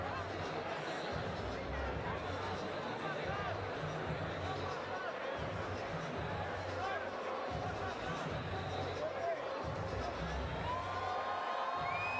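A large arena crowd at the Huntington Center in Toledo, Ohio cheers and roars steadily for boxer Jarrett Anderson, with a commentator talking over the din.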